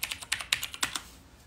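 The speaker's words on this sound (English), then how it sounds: "let me type in another category" Quick keystrokes on a computer keyboard, about a dozen close, crisp clicks in an irregular burst, trailing off into quiet.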